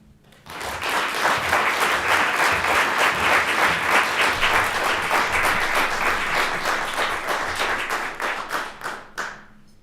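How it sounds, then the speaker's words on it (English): Loud, dense applause from an audience at a poetry recitation competition in Alaska, swelling quickly and sustained for several seconds before thinning into a few scattered final claps. "How about another round of applause for them?"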